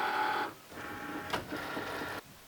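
A Cricut cutting machine cuts mosaic iron-on vinyl: a steady mechanical whir and hum, close and moderately loud, with short pauses and shifts in pitch as the carriage moves. No talk.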